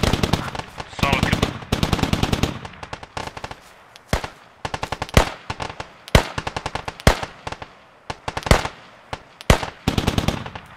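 Sustained machine gun fire rattles through the Squad video game in long and short bursts of rapid shots. Brief gaps fall between bursts, and a few heavier single cracks stand out, all fairly close with no talk.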